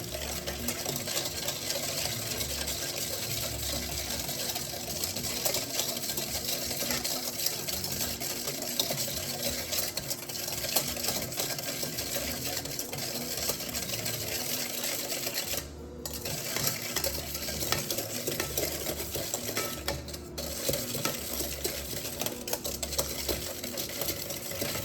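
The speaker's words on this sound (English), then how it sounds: "Mix it with a whisk." A whisk mixes a liquid in a container during a physical science lab, making a continuous rapid clicking rattle that stays steady and moderately quiet throughout, with no voices.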